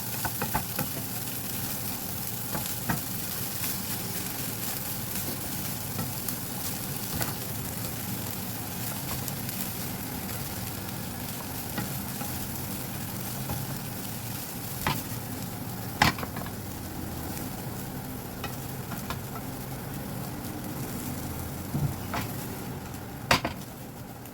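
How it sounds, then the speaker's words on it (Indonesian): Fried rice with cucumber added, Indonesian style, stirred in a pan: a steady sizzle and frying hiss runs throughout, with occasional sharp clinks of a utensil against the pan, close and continuous with no talking. "kasih timun aduk merata"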